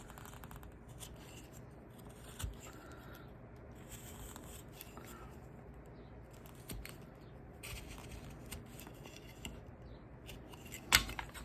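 Small, crisp cuts of a V-tool slicing into a flat-plane wood carving, a steady scatter of soft scraping and snicking strokes with a few sharper clicks, close by and fairly quiet.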